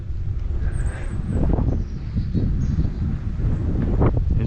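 Steady wind roars and buffets the microphone on a bridge over a river on a cold, misty day, a constant low rumble with gusty surges and no voices.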